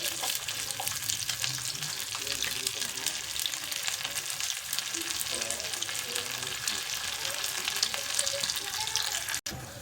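Ginger slices and slit green chilies frying in hot oil for a tadka, a continuous close sizzle with light stirring, steady throughout with no talk.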